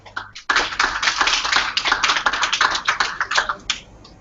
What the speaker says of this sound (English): Do people always clap at presentations?